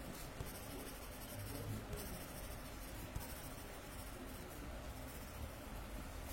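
A pen scratches steadily and softly across paper while a Zentangle pattern is drawn on a grid, a faint continuous rasp with small irregular strokes and no voices.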